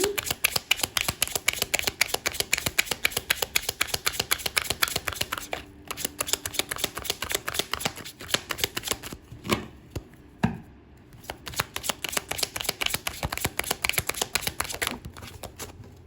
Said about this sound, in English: let's go ahead and pull here some oracle cards to finish up the session